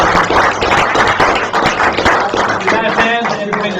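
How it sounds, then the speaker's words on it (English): An audience at a live space-industry event gives a round of applause, a dense burst of close clapping that continues steadily for a few seconds and thins slightly near the end. "Let's give a round of applause to Jason first."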